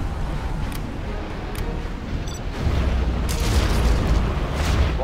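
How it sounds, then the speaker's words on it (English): A Tomahawk cruise missile launching in Command & Conquer Zero Hour gives a sustained low rushing roar that swells midway, with faint clicks and pops over the steady rumble. "Arming cruise missile."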